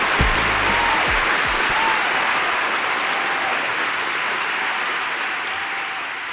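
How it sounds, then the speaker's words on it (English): A live crowd claps loudly to welcome the hosts on stage at a dating-advice event, dense and continuous applause that starts strong and fades slightly over several seconds. "Everybody deserves a round of applause"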